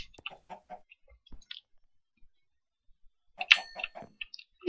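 Blocky chicken from Minecraft clucking in short, quick bursts, a few soft clucks at first, then a louder clustered run of clucks after a pause, close and clear with no talk.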